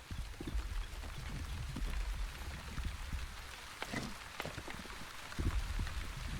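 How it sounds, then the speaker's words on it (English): Rain storm in The Wandering Village game, steady patter of raindrops with a low rumble and a few sharper spatters, fairly soft and continuous. "Oh, we're going to get some rain."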